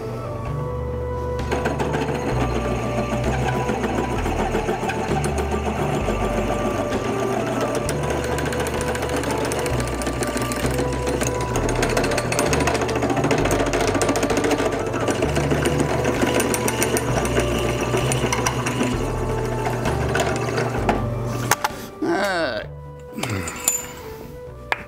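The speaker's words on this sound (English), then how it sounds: "Let's drill this pulley and see if we can get a nice fit." A drill bores out a pulley for an old Dayton Model 6Z117 2-inch belt grinder, running with a steady, rattling whine for about twenty seconds before stopping and a few clinks follow.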